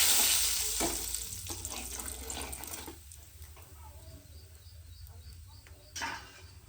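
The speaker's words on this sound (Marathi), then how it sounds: "तेलामध्ये 1 चमचा मसाला घालू। छान परतून घेऊ तेलामध्ये" Masala spice frying in hot oil while being stirred, a soft continuous sizzle with occasional scraping strokes, fairly quiet and heard alone.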